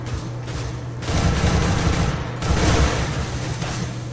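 CS:GO gunfire comes in two sustained bursts of rapid, loud automatic shots, with a short lull between them and a steady game hum underneath.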